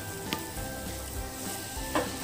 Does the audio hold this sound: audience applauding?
no